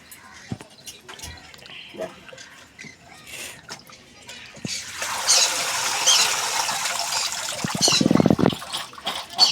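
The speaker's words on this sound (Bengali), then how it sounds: "জলটা ঝরুক দেখো মটরগুলো এই ফুটো ঝুড়িতে দিয়েছিলাম" Water drains from green peas held in a colander, quiet splashes and drips at first, then a fuller rushing trickle that swells over the last five seconds.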